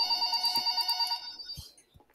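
A phone in the Roblox game FNF Forgotten Memories rings in a fast electronic trill for over a second, loud and close, then cuts off and leaves a few faint clicks.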